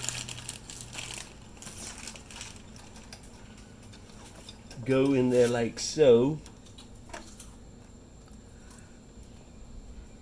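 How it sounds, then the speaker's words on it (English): Crunchy chewing of Cheetos and crinkling sounds close by, with a short stretch of talking in the middle and faint background noise throughout. "the crunching that you're hearing is our grandson enjoying his snacks, his Cheetos"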